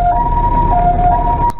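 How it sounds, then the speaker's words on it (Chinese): An ambulance siren wails loudly and close by in a steady, sustained tone as the ambulance answers a call about a man lying in the road, heard alone with no talk. "听到救护车声音，附近民众全都跑出来看看到底发生什么事"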